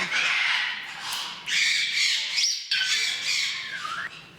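Older wild-caught parrots in an aviary room squawk loudly and close by in long, harsh, overlapping calls that keep going with only brief gaps.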